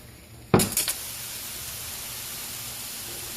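Taco shells dropped into a dry, ungreased fry pan straight from the oven give a sudden loud crackling sizzle that quickly settles into a steady soft hiss.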